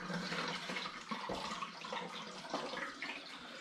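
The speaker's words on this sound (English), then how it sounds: "I'm filling it right to the top" Vimto-flavoured turbo cider liquid pours steadily into a container being filled to the top, a continuous splashing, gurgling stream heard up close with no talking.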